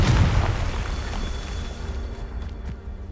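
A Confringo blasting curse goes off in Hogwarts Legacy, one heavy booming explosion right at the start that rolls and decays into a fading rumble over a few seconds.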